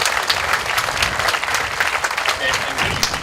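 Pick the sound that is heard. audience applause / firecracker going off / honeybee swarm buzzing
audience applause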